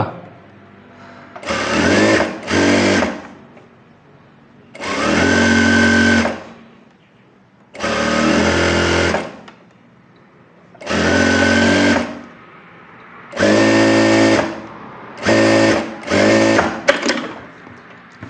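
Close and loud, a sewing machine stitches a puff sleeve in seven bursts of fast, even whirring, each separated by a short quiet pause.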